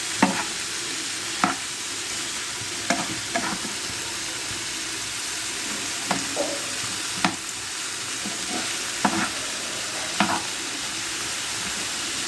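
Shredded cabbage is stirred in a sizzling frying pan for a Bengali jackfruit seed and pabda fish dish, with steady frying hiss and repeated sharp spatula scrapes every second or two, close and alone.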